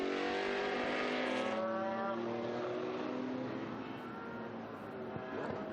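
Historic Dallara SP1 race car at speed on the Estoril circuit during a classic racing event, its engine note loud and sustained with rising harmonic tones as it passes, no voices.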